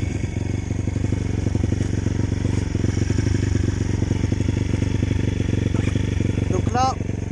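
A 2012 CRZ 150 S motorbike in poor condition idles loudly and steadily while a small, rapid clacking ticks through the engine note, with someone talking over it.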